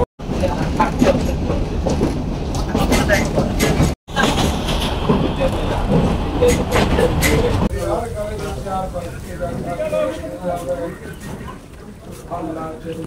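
A train runs through countryside around Lalmonirhat, giving a steady close rumble with rhythmic wheel clatter that shifts tone midway and eases off toward the end, with a voice talking over the first part.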